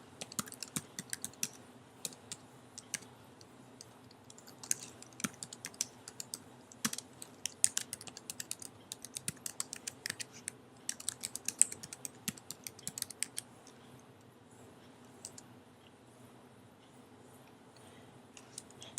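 Fast, uneven clicks of computer keyboard keys being typed, close and fairly quiet, in irregular bursts with short pauses, with no talking.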